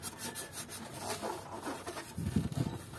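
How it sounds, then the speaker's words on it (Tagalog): Hand sanding of tight, hard-to-reach Yamaha Mio scooter parts with sandpaper: quiet, repeated scratchy rubbing strokes close to the mic, growing louder and heavier near the end, with no talking. "mano-manong lilihain ko na lang"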